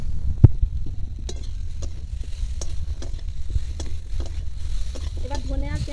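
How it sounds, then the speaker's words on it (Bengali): Vegetables fry in a pan with coriander powder and onion paste, a steady soft sizzle broken by intermittent scraping stirs and clinks of a spatula, close and moderately loud. "এবার ধনে আর পেঁয়াজ বাটা দিয়ে একটু মশলাটা আর একটু সবজিগুলো ভাজবো"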